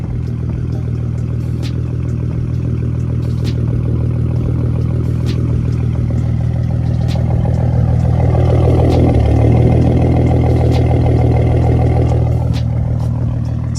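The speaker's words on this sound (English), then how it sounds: "My exhaust is just the BBK catted X pipe, Spectre intake, a custom Bama tune, and a straight pipe." A V6 Mustang fitted with a BBK catted X pipe, straight pipe exhaust, Spectre intake and custom tune, idling with a deep, loud, steady burble and a brief swell in revs midway, heard close with no talk.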